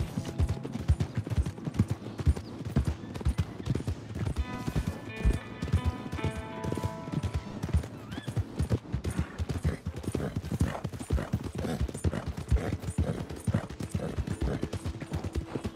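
Horse hooves clip-clopping in Red Dead Redemption 2 as a steady, close, evenly paced rhythm that runs throughout, with a brief tonal game sound in the middle.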